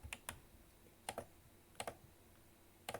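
Quiet typing on a computer keyboard in a Linux terminal: a few sparse keystrokes, often in pairs, separated by short pauses.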